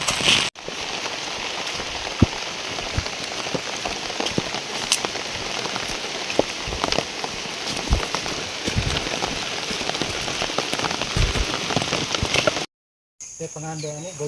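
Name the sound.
heavy rain falling on a farm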